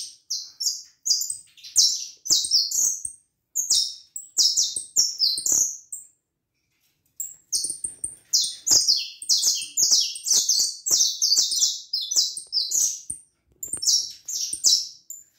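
Canaries sing in bright, rapid trilling phrases from close by, loud bursts repeating with a brief pause in the middle, with no voices.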